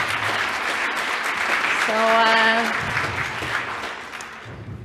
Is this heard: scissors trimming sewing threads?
no